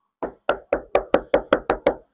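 Knuckles rap on the soundproofed ceiling lining of a new Mazda car, nine dull, damped knocks in an even quick rhythm, close and clear, with no voices.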